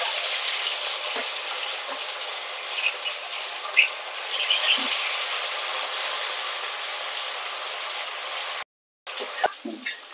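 Fish pieces fry in mustard oil over a low flame for an Odia fish ambila, giving a steady, soft sizzling hiss. The hiss cuts out briefly near the end, then returns with a few light pops.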